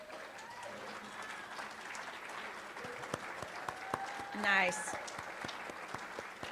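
Scattered, fairly faint clapping at a meeting honouring departing sponsors, sparse claps under light room noise and brief speech, with one louder burst near the end.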